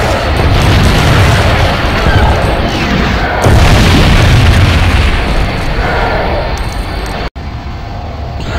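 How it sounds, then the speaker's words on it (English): A Star Destroyer explodes in a Lego Star Wars video game with a loud, sustained rumbling boom and crackling debris that rolls on for several seconds before cutting off abruptly near the end. "The sound that the Star Destroyers make when they explode is louder in the sequel compared to the Complete Saga"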